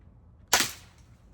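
A single sharp air gun shot fired at a target about 94 yards away outdoors in the cold, a crisp crack with a short decaying tail, heard alone against a quiet background.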